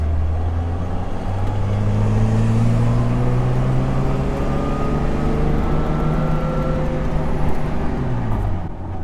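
A Jeep TJ drives along a road, engine pitch climbing and dropping as gears shift, with steady loud road and engine noise throughout.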